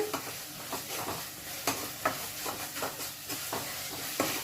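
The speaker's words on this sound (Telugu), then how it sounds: "బాగా మంచి స్మెల్ వచ్చే వరకు అల్లం పేస్ట్ నేగనివ్వండి" Ginger paste frying in a pan while it is stirred for a prawn fry, a soft steady sizzle broken by regular scrapes of the spoon, fairly quiet, no voices.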